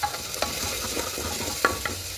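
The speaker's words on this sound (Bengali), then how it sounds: "এই সব মশলাগুলোকে একটু ভালো করে কষিয়ে নেব" Ground cumin, coriander and turmeric stir-fried in a pan, a close low sizzle broken by a few scraping stirs of a spatula, brief and without voices.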